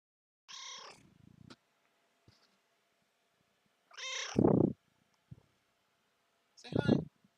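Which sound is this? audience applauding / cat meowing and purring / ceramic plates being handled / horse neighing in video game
cat meowing and purring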